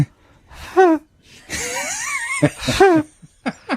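A person makes wheezy, squeaky vocal noises mimicking a snoring cat, with short rising squeaks and a longer breathy rasp.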